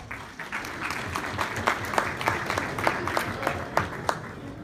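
Audience applause at a basketball awards banquet, sustained clapping from a crowd in a hall with a few sharper individual claps standing out and faint talk underneath.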